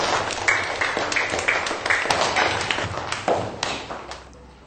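A primary school class claps for itself, a quick scatter of light, uneven hand claps and taps with a few children's voices mixed in, close and moderately loud before fading.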